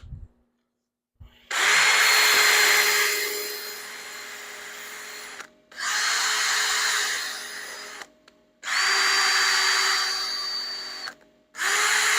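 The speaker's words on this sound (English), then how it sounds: "This is a 2-inch sanding disc and sponge for the drill." A drill fitted with a 2-inch sanding disc and sponge whirs in four separate bursts, its high grinding whine of sanding against wood rising and easing, with short quiet gaps between runs.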